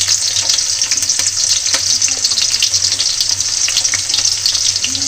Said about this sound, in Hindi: तब मैं डाल देता हूँ जीरा और प्याज के फोरन।